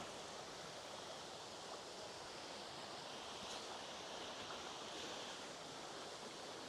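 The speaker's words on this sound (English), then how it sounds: "head up to the waterfalls" Steady broadband rush of falling water from a waterfall outdoors, continuous and fairly distant, with no voices.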